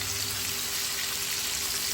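Fish fry in hot oil, giving off a dense, steady sizzle and crackle, close and continuous with no voices.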